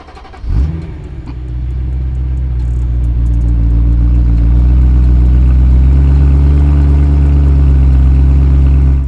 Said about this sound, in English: First V8 cold start of the channel.